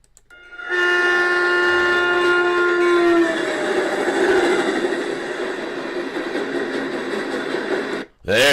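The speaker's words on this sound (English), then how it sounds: "That's a freight train" A freight train locomotive sounds a long horn blast, then rumbles past with a loud, sustained roar that cuts off abruptly near the end; no talk over it.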